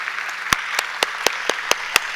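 An audience applauds at a national literature award ceremony, with sharp, evenly spaced claps standing out over a steady bed of clapping for the whole stretch.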